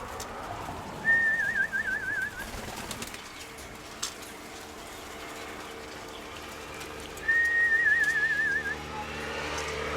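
Two separate warbling coos from pigeons, a few seconds apart, over quiet outdoor background noise.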